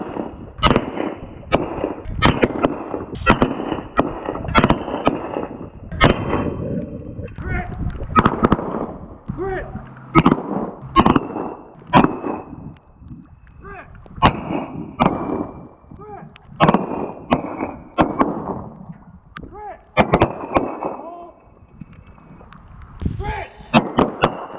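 Pistol gunshots at an outdoor tactical handgun training class, sharp loud cracks fired in quick strings and pairs throughout, with an instructor's shouted commands and talk between shots.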